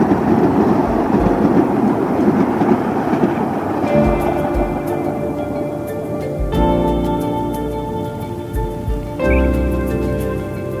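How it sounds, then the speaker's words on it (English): Australind diesel passenger train thundering across the single-track wooden Bunbury Bridge over the Swan River, built in 1930; a loud, continuous rumble with rolling wheel clatter and droning engine tones that shift as the train passes. "The Australind now goes past the railway road bus depot before thundering down the slope to cross the Swan River via the single track of Bunbury Bridge"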